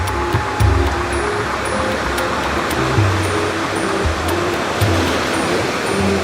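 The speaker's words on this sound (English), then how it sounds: "Wow, that was a huge wave." Heavy ocean surf roars continuously, big waves crashing and rumbling close by a small fishing boat, with a low, booming undertone.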